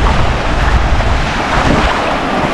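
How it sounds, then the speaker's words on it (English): Small ocean waves wash steadily onto a stony beach of coral and rock mixed together, a continuous close surf hiss with wind buffeting the microphone throughout. "But the waves are only small"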